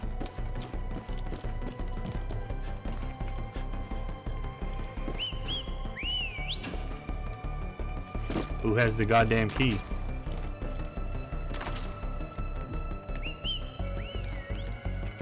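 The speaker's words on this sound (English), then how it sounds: "What are you whistling about?" Short melodic whistled phrases from a character in the video game Far Cry 5, a few rising and falling tones under rapid footstep-like thuds and game sounds, with someone talking over parts of it.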